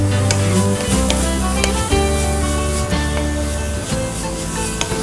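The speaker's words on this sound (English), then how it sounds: "because I'm cooking the carrots here, it's going to release its natural sugars" Carrots sizzle steadily in a hot pan as the start of a marinara sauce, a loud close continuous frying hiss with occasional scrapes and stirs, no talking.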